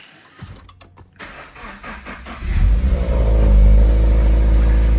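A Toyota GT86 cranks briefly and fires up, then settles into a loud, steady idle close by, with no one speaking.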